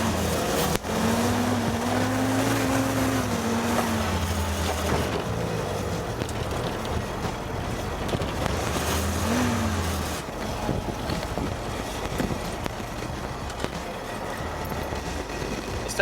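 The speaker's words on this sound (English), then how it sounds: "Let's take this thing off-road." A 1942 Willys Ford GPW jeep drives off-road, its engine a steady, close, loud drone that rises and falls in pitch, with rough rumbling and clunks from the rough ground.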